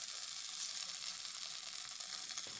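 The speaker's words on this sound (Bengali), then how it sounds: "তেলটা হালকা গরম হয়ে গেছে, এখন একটু হাই হিট করে নিলাম, আর এখানে আমি এই বলগুলোকে ছেড়ে দিচ্ছি" Cabbage and egg balls coated in gram flour fry in hot oil over high heat, giving a faint, even, continuous sizzle throughout.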